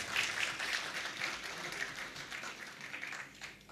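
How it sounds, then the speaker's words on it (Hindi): Audience applause at a theatre award ceremony, a continuous wash of many hands clapping at moderate volume, slightly distant, tapering near the end. "जोरदार तालियां एक बार फिर से हो जाए"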